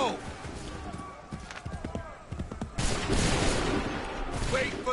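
Musket volley fire in Assassin's Creed 3, with scattered sharp shots giving way to a dense, rolling crackle of massed fire, heard under shouted commands and hoofbeat-like clatter.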